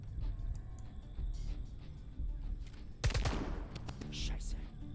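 Gunfire in the video game Jagged Alliance: Rage!, with background game noise and a sharp burst of shots around the middle followed by further scattered reports, set against low ambient rumble.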